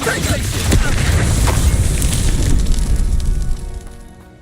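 The Bombarda blasting spell goes off in Hogwarts Legacy with a loud, close, crackling boom that rumbles and roars for a few seconds before fading away.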